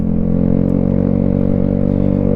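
A Ducati motorcycle engine, just back from dealership warranty work on the forks and an ECU update, idles loud and close with a steady low throbbing pulse throughout.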